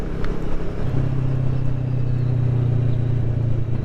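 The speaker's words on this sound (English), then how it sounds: "Another car after it." A second car passes motorcycle riders, a Kawasaki Vulcan 650 S and a KTM, on a West Kent road, its low engine hum swelling and holding steady over constant riding wind noise.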